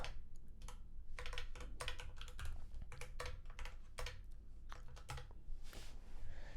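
JavaScript code being typed on a computer keyboard, with irregular bursts of close, crisp key clicks and short pauses between runs, no talking.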